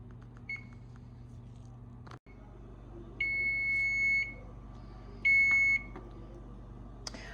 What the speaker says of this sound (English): I'm just going to put the timer on maybe